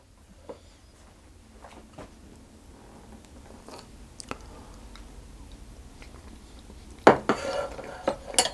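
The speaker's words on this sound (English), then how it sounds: "So I'll have a taste of the slice which I've cut." A slice of mango and coconut custard tart is tasted: soft clinks of cutlery on a plate, then closer crunching bites toward the end, faint and close, with no speech.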